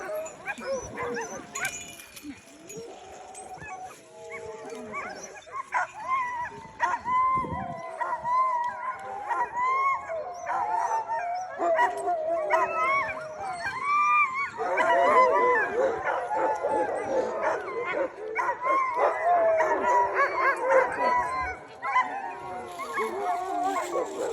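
Several Iditarod sled dogs bark, yip and howl excitedly together, close and loud, while people talk over the chorus.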